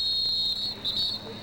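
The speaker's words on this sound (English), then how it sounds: "Symphony of whistles." Referees blow shrill, sustained whistles at a club lacrosse all-star game, two long blasts with a short gap between them, loud and piercing over faint crowd noise.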